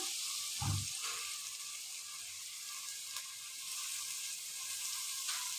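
Soaked freekeh stirred into softened onions in a pan, giving a steady close frying sizzle with a brief thump as it goes in, no talking.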